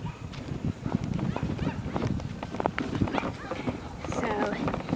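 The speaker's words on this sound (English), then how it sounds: "the neighbors have dogs that are barking at me" Neighbors' dogs barking at a person walking outdoors with a stroller travel system, several quick barks and yips under ongoing talk at a moderate distance.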